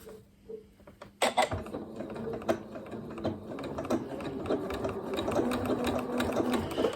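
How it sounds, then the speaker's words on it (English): Domestic sewing machine stitching along a line on a cushion project, a steady mechanical whirring hum with rapid needle clatter that starts abruptly after a faint lead-in and runs continuously, close and fairly loud. "normally you would see it sort of running away, the sewing machine running away without just a normal stitch"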